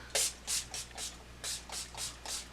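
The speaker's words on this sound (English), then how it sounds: "I spray it with some type of setting spray, and then I blend it in" Violet Rose Moisture Mist setting spray hisses out in about eight quick, close bursts in an uneven rhythm, each spritz short and airy, with no talking.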